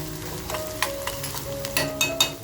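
Onions fry to a reddish brown in a pan for a dry fish dish, with a steady close sizzle and sharp scraping clicks from stirring at uneven intervals.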